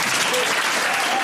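Clapping from a group of people, a dense continuous patter of hands that holds steady throughout, with a murmur of voices mixed in.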